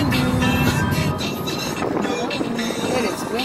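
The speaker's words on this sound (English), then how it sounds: "It is windy out here today." Heavy wind buffets the microphone in a constant, loud rumbling roar, with no breaks throughout.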